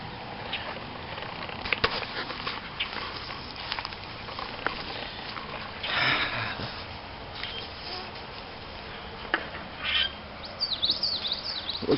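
Birds in a backyard vegetable garden with tomato and pepper plants chirp and tweet in scattered bursts over steady outdoor background noise, with a few louder calls near the end.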